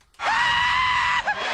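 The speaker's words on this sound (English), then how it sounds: "This is the screaming goat." A screaming goat sound effect lets out one loud, sustained human-like scream lasting about a second, abruptly cut off with a brief second bleat.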